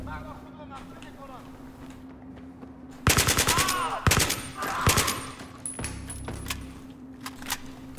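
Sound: gunfire in Battlefield 3 video game

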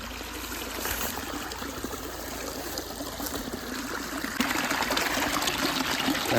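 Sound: water flowing down from Khao Yai mountains into garden stream

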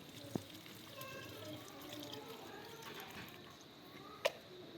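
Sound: water pouring into soil

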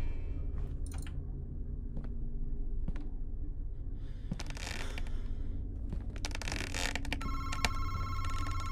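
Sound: telephone ringing in the video game Madison

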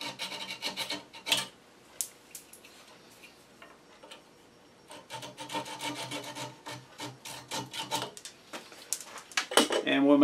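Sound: hand sanding wood

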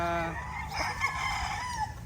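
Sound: rooster crowing

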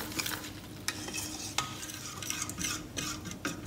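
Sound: stirring coconut milk into batter for bánh xèo

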